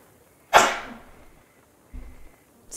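A single sharp sneeze bursts out loud and close, then trails off quickly, followed by quiet room sound and a soft thump.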